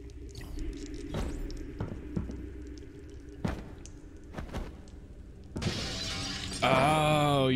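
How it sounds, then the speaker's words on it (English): Glass shatters in the video game Loopmancer, preceded by scattered sharp impacts and clatter, then a loud bright crash followed by a steady sustained tone near the end, with no talking. "you're supposed to break through the glass"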